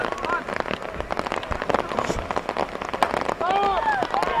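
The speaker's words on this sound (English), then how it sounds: "It is raining real good." Rain pours steadily over an outdoor men's baseball game, a broad hiss beneath crowd noise, distant whistles and bird chirps, with a commentator talking over it.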